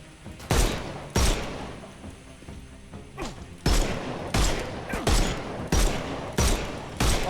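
Gunfire in the Sherlock Holmes Chapter One video game: a rapid series of about ten loud, sharp shots, irregularly spaced, some in quick pairs, close and dominant with no talk over them.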